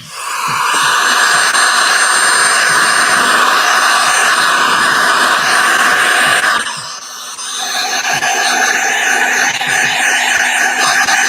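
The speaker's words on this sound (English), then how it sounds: "I might actually want to take this air compressor thing off." An air compressor runs with a loud, steady hiss and whine in an epoxy resin art workspace, dipping briefly before resuming at full level.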